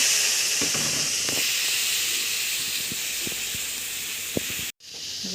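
A spice mix hits a hot pan for a paneer dish, giving a loud, steady hiss that slowly eases and breaks off abruptly near the end.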